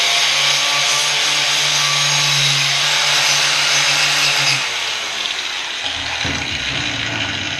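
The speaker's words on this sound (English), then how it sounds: "those wire brushes, even the knotted wheels that I use, they throw a lot of wires" A knotted wire wheel brush cleans hand-forged steel in a blacksmith's shop, a loud, steady broadband whirr with a low motor hum that runs for about four and a half seconds, then spins down to quieter scraping.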